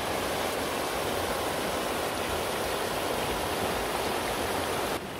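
River water rushes steadily through a chain of clear pools on the Río Verde near Otívar, Granada, a loud, continuous broadband wash close by with no break or voices.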